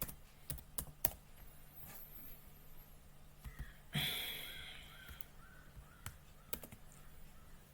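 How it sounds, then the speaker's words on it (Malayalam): Several quick keystrokes on a computer keyboard as a shortcode is typed into WordPress, scattered taps across the stretch, with a brief louder swish in the middle. "ഷോർട്ട് കോഡ് ഒന്ന് ടൈപ്പ് ചെയ്ത് കൊടുത്തു"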